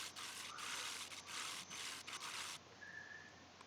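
Segmented wooden birdfeeder body clamped with pipe clamps and spinning on a lathe while a tool rounds off its ends, giving a steady loud scraping hiss with brief dips, then a thinner whir near the end.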